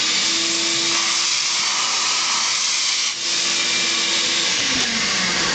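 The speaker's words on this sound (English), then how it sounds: "I'm going to suck out any seed that's in there." A shop vacuum sucks loose seed from the gearbox area of a planter. It roars loud and unbroken from start to finish, with one brief dip partway through.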